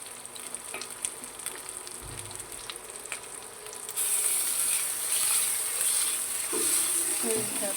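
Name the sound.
frying hilsa fish in a pan with mustard paste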